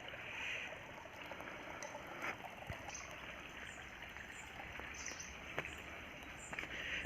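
A forest stream in the Ananthagiri Hills trickles and flows steadily at low level. Small splashes and clicks sit over the continuous water, and no one speaks.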